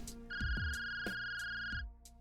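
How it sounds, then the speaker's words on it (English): Phone ringtone in an indie visual novel game, a steady electronic tone that plays for about a second and a half over a few soft taps and clicks. "That's when Dad's phone started to ring."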